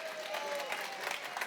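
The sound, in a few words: church congregation clapping for themselves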